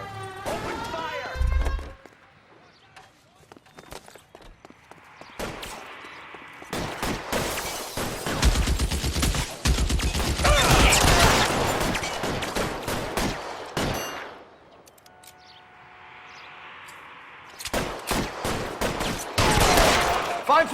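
A shootout in L.A. Noire erupts into dense bursts of gunfire, volleys and rapid automatic fire alternating with lulls, loud and close, with voices shouting over parts of it.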